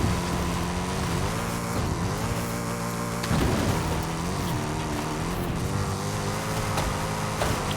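Holden Maloo ute driving in Forza Horizon 5, its engine droning steadily with harmonic pitch shifts as it revs and shifts gears, one brief louder bump midway, continuous and close with no talk.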